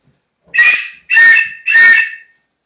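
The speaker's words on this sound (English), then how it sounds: "it's going to be 3 short whistles, so at 30 seconds" Three short, loud whistle blasts mark a sailboat race start sequence, evenly spaced and alike, each about half a second with brief silences between.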